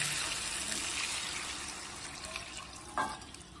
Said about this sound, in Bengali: এবার এতে আমরা পরিমাণ মতন জল দিয়ে দেবো।